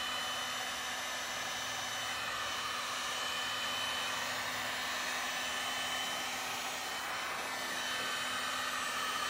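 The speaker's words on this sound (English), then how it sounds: "I'm going to use my heat gun." Heat gun blowing steadily while heating paint for a rusty patina finish, a continuous close whooshing hum with a faint tonal whine, no talking.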